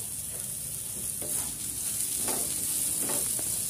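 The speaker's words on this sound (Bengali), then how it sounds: "এবার রসুনগুলো দিয়ে একটু নাড়াচাড়া করব।" Garlic sizzling in hot oil while being stirred, a steady bright frying hiss with soft scraping strokes of the spoon every second or so, close and alone without talk.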